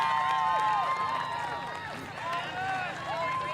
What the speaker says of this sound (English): Emma Lawson's fans cheering her through this final lap